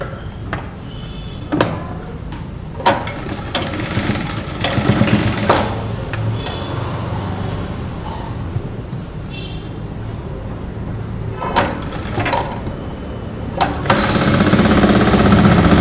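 A sewing machine runs in rapid mechanical bursts while top-stitching a kurta beside its piping, with clicks and pauses between runs and a louder continuous whir near the end.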